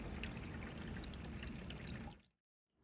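Water from a wifi-controlled garden hose pours steadily into a fish tank, a close, continuous splashing rush that cuts off abruptly near the end, leaving brief silence.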